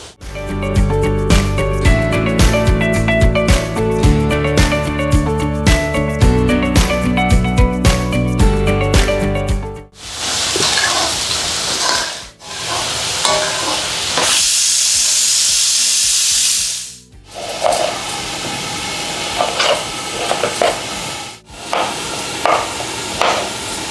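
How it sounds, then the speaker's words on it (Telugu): Ginger paste hits hot oil in a pan and sizzles loudly and steadily with a bright hiss, coming in after a stretch of music. "అల్లం పేస్ట్ వేస్తున్నాను కొంచెం ఫ్లేవర్ కోసం."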